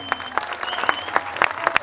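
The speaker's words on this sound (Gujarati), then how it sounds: "જોરદાર તાળીઓના ગડગડાટથી વધાવી લો." Audience at an Adivasi cultural gathering applauds with dense, close clapping, a burst of crowd applause filling the short clip.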